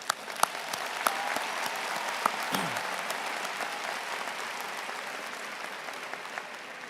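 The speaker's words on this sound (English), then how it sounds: "Please join me in giving them a big round of applause." Large crowd applauding at a university commencement ceremony, sustained dense clapping with a few sharper claps standing out near the start.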